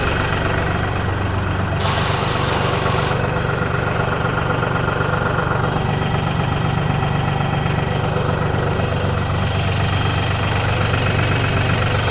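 LS tractor backhoe engine running steadily at close range, a loud continuous diesel drone as the bucket is pressed down, with a brief rise in hydraulic strain early on.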